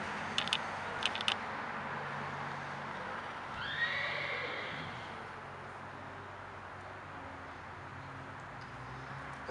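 A horse in a herd gives a single clear whinny partway through, set against a steady outdoor noise bed with a few faint knocks near the start.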